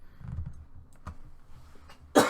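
A single sharp cough bursts out at the end after a few quiet clicks and soft rustles.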